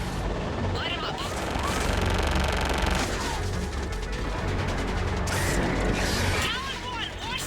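Air support gunship strafing ground targets in Mass Effect 3, a dense, loud barrage of rapid mechanical firing and clattering over constant rumble, with radio chatter running underneath throughout.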